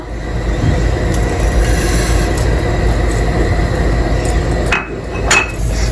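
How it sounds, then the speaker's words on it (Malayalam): Mustard seeds splutter in hot coconut oil in a pan for Kerala puli inji, a loud, dense crackle of rapid popping that runs steadily throughout, with a few sharper pops and clinks near the end. "കടുക് പൊട്ടി വരുമ്പോൾ"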